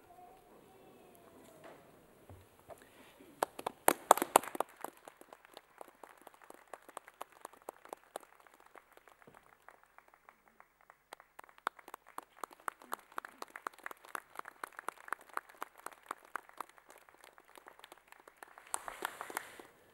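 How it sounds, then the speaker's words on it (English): Graduates at a Massey University graduation ceremony in Manawatū clap in a hall, their applause coming in scattered, uneven bursts that are moderately faint and distant, with brief lulls between waves of clapping. "I will ask graduates to stand, applaud those on stage, and then turn and applaud your family and friends."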